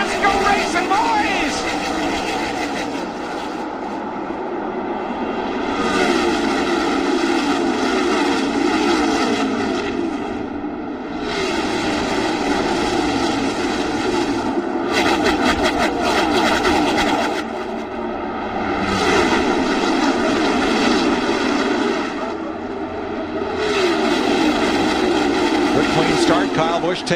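NASCAR stock cars at the Texas race start roar past in a loud, dense engine drone that swells and fades in waves as the field passes, with a commentator talking over it.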